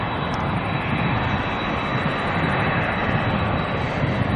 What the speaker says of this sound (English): We've got the All Black ATR coming in